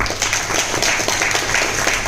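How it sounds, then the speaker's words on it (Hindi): An audience claps loudly and continuously at a training session. The applause is dense and sustained, with no talk over it. "गोविंद बैगले जोरदार ताली"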